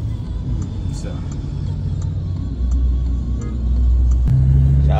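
Cars crawling in a traffic jam after a road accident, with a low engine rumble that thickens and grows louder as a nearby vehicle idles and pulls ahead, and people talking over it.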